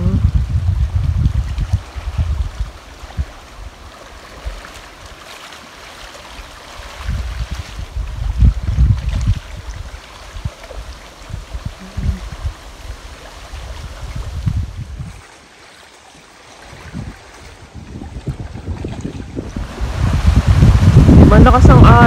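Heavy waves surge and crash in repeated low, rumbling bursts amid gusty wind, with voices talking faintly now and then.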